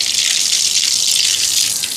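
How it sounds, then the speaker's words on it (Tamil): Water gushes steadily from a tap into a small cooking pot, a loud continuous hiss with no break, heard alone, while preparing vegetable curry for almsgiving in Jaffna, Sri Lanka. "இப்போ தண்ணி நிறையட்டும்"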